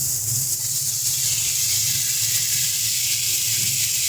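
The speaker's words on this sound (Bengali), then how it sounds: "চলো ভালো করে মশলাটাকে এবারে কষিয়ে নিই।" Spiced masala and tomato paste frying in a pan with a little water, a loud, steady close hiss and sizzle that holds without a break.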